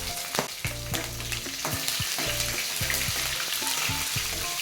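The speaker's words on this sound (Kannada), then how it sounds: "ಲೋ ಫ್ಲೇಮಲ್ಲಿ ಇಟ್ಟು ಫ್ರೈ ಮಾಡಿ" Chana dal, urad dal, curry leaves and green chillies fry on low flame for beetroot palya, a steady close sizzle punctuated by repeated metallic scrapes and knocks of a spatula against the pan, with no talking.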